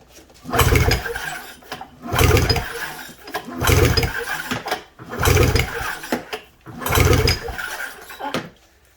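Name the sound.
snowmobile engine pull-started during compression test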